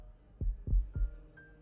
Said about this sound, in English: Now we're hearing our heartbeats.